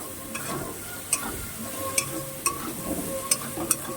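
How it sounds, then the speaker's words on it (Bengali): Prawns fry in oil in a pan, sizzling steadily while a utensil stirs them, with a handful of sharp scraping clicks spread across a few seconds and no talk. "চিংড়ি মাছটাকে এবার ভালো করে লাল লাল করে ভেজে নিতে হবে। কিন্তু অনাবরত একটু নাড়তে হবে যাতে পুড়ে না যায়"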